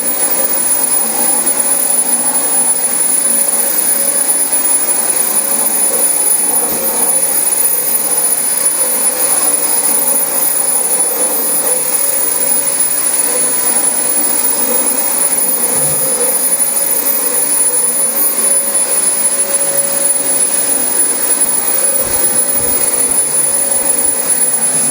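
A Dyson DC25 upright vacuum cleaner running on carpet, a loud, steady, unbroken roaring whine that stays close and constant throughout with no talk.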